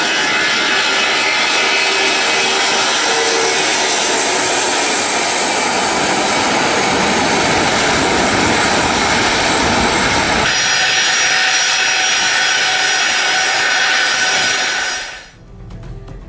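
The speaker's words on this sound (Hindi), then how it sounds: "रूस ने अपना बेहद सुरक्षित डूम्सडे प्लेन तेहरान भेजा है" Loud, steady aircraft engine roar from a Russian doomsday plane landing in Tehran, holding broad and close for about fifteen seconds before a brief shift and a sudden drop near the end.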